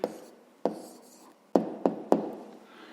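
Pen strokes on paper while writing down a math answer: a handful of sharp, quiet taps and scratches spaced irregularly, close up in a hushed room.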